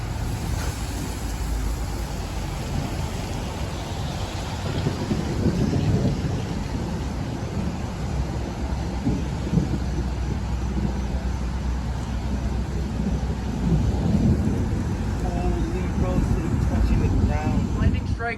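A thunderstorm with deep rolling thunder over steady rain, loud and continuous throughout, with low rumbles swelling and fading and faint voices underneath.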